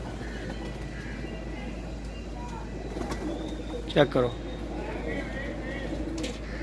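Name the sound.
pigeons cooing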